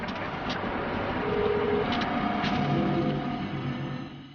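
Tram rumbling past on the street, a steady rolling drone that swells and then fades, with faint squeals from the rails and wheels.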